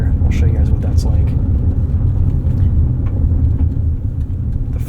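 A Toyota RAV4 Woodland plug-in hybrid rolls over loose sand, washout and coarse gravel, a steady low rumble of tyres crunching on the surface heard from inside the cabin, with a person talking over it.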